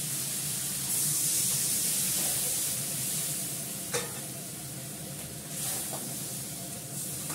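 Fish pieces, including two fish heads, go into hot oil in a home kitchen pan, giving a continuous broad sizzle with a louder surge early on and a few faint clinks and scrapes, no speech.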